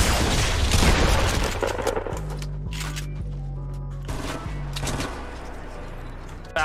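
Rocket launcher fire in the Fortnite video game: a dense burst of blasts and gunfire-like bangs up front, followed by a lower sustained rumble with sharp intermittent hits, loud throughout.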